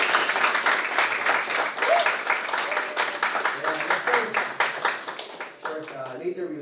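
An audience at a lecture on designing Rizal's Novela Tagala claps for a speaker. Dense, continuous applause fills most of the stretch, fading near the end as a voice begins talking.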